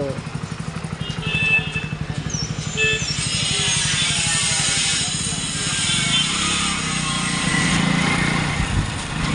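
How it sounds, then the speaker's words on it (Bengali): A motorcycle engine runs nearby with a steady throbbing putter that rises slightly as it revs, continuous throughout, during a driving test. "তো বাইক স্টার্ট করে নিয়েছি"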